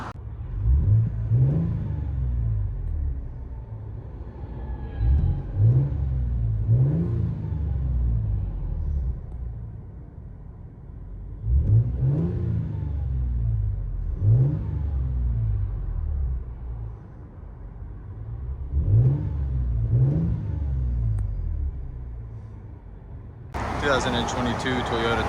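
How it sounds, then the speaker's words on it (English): Inside the cab of a 2022 Toyota Tundra 3.4L V6 with a Borla ProXS exhaust, a muffled engine hum swells in several rev bursts over a low idle, with a burst of noise near the end. "Let you guys hear it on the inside."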